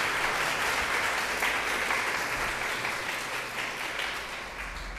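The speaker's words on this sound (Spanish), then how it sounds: "para quien pido un fuerte aplauso" A crowd applauds loudly and steadily for a national elections jury president at a formal keynote lecture, with dense sustained clapping filling the whole stretch and tapering only slightly toward the end.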